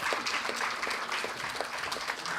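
Audience at an inaugural ceremony for the Dalai Lama's 90th birth anniversary applauding steadily, a dense even patter of many hands clapping without pause.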